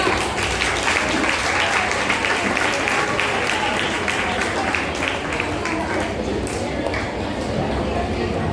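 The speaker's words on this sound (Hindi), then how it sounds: "तालियां बच्चों, तालियां।" Children applauding at a Hindi Day school celebration, a sustained crowd of clapping hands in a large space, steady and loud throughout with some voices mixed in.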